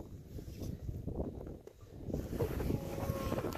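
Wind gusting through snowy mountains on a late afternoon after sunset, a steady broadband roar with buffeting against the microphone that dips briefly and then swells louder, with no talk.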